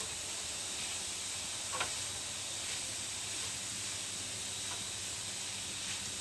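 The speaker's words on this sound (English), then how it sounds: "That sizzle" Food sizzles on a hot grill with a steady broadband hiss that runs unbroken throughout, joined by a few faint crackles and pops, and no one speaks over it.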